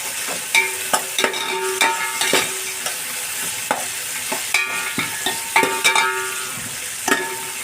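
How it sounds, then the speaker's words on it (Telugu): Onions fry with salt and mint in a pan for fish biryani, a steady close sizzle broken by repeated sharp scrapes and clinks of a spoon stirring against the vessel, roughly one every second. "ఉల్లిపాయ వేగాల, అందులో కొద్దిగా సాల్ట్ వేస్తాను."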